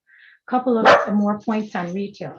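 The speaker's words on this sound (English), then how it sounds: "Oh, sorry, that's my dog." A pet dog barks a few times at home during an online talk, the yelps overlapping a voice as he keeps speaking; close, fairly loud barks mixed with speech.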